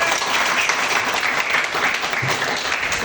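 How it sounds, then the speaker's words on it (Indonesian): A classroom of pupils claps together for a classmate who answered correctly, a brisk, dense burst of applause that fills the room throughout. "Berikan tepuk tangan."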